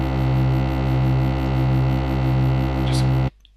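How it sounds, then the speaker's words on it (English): A loud, sustained reese bass made in Massive, with a resonant filter sweeping slowly up and down, thick and buzzing, ending abruptly in near silence. "You can hear the resonance going up and down on that second filter"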